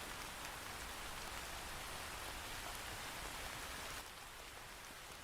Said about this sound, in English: Turn the old rain down a tad